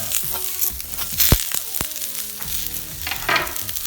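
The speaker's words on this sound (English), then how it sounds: "Toss a little bit of oil, a little something. Get some of these slivered onions I just took care of." Slivered onions fry in oil on a hot Blackstone griddle, a bright steady sizzle with a few scraping and clinking touches of a spatula, close and without speech.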